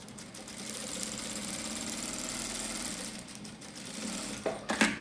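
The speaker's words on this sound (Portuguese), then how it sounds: "Um pezinho de máquina, primeira costura de segurança." A sewing machine runs steadily, stitching a safety seam in black thread on a fabric bag organizer, a continuous close mechanical whir that holds for about four seconds before a few louder clicks and knocks at the end.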